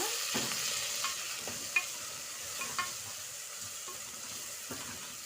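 Beef curry with curry leaves being stirred in a frying pan, a steady soft sizzle under repeated scraping stirs and small clinks, close and moderately quiet with no talk.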